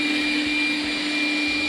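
A Dreame F9 robot vacuum runs at maximum suction, giving a loud, steady close-up whine with a strong tonal hum and broadband hiss that holds constant throughout, with no one talking over it.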